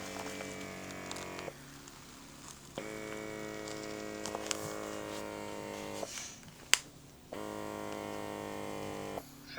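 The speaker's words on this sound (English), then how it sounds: "Air pressure plus heat and vibration." An eye massage mask with air pressure, heat and vibration runs as a steady electric hum with a pump-like drone, which cuts out briefly twice and then resumes, close and fairly quiet.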